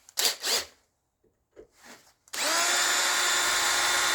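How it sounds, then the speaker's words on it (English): A few short sounds, then an electric drill with a step drill bit starts and runs steadily with a high, whining tone, close and loud until the end. "Some pretty bad drill they got here."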